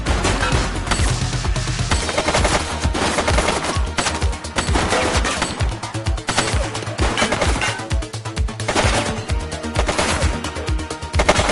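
Rapid bursts of gunfire in the police video game The Precinct on PS5, loud dense volleys that repeat throughout without pause, layered with game effects.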